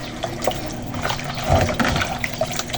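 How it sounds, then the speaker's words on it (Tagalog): Tap water pours steadily into a bowl of brine for fried chicken, a continuous splashing, gurgling flow heard close up with no talk over it. "Kasi 1 cup bawat kilo ang ating ilalagay na tubig para sa ating brining."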